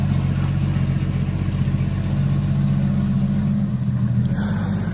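A rebuilt car engine runs steadily in a driveway, a loud, even close-up idle with a constant low hum and no talk over it.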